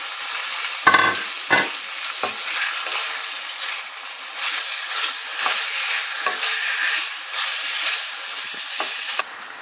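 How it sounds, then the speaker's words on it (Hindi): Chicken added to fried chopped ginger and garlic in a pan for pulao: loud thumps and clatter as it goes in, then a sustained sizzle with periodic stirring scrapes, close and alone without speech. "ये फ्राई हो चुका है, अब मैं इसमें चिकन डाल लेती हूँ।"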